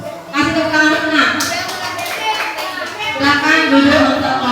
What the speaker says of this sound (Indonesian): Kasih tepuk tangan dulu nak.